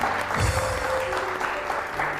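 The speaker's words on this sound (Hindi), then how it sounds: "तालियाँ।" Studio audience applauding on a Hindi entertainment show, a broad steady burst of clapping lasting about two seconds, fairly loud and continuous with a faint tonal hum underneath.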